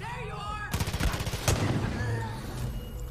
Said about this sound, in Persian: این همه آدم اونا هم دارن تیر میزنن.